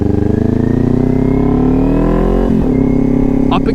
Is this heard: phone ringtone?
no